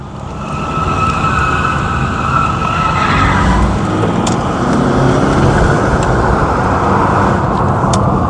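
A car on an industrial park road, being tested after a carbon build-up cleaning treatment, is driven hard in second gear. A loud, steady engine roar fills the whole stretch, close and unbroken, with a faint tone in the background and no voices.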